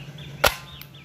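A spring-loaded toy pistol loaded with a suction-cup dart fires once with a single sharp snap in the middle of an otherwise quiet moment, the shot weak and short-lived.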